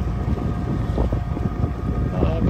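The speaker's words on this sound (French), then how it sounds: "Et là, l'entrée avec des grosses rafales." Strong wind gusts buffet a sailing boat at the entrance to a bay off Greece, a loud, dense, continuous rumble of wind on the microphone with rushing surges throughout, no talk.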